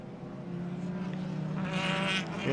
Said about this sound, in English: You can hear the iconic buzzing sound of the engines of the Hondas.